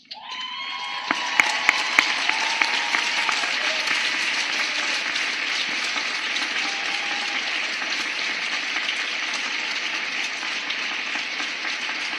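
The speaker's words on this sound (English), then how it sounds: "I join with our graduates as they rise to applaud their families who've done so much to make this day possible." Graduates at the Goucher College 2012 commencement rise and applaud their families, a broad, sustained wash of crowd clapping that starts abruptly and holds steady throughout.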